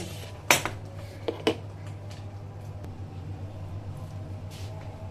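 A spoonful of sugar goes into okra in a cooking pot: a few quick metallic clinks of a spoon against the pot over a steady low kitchen hum.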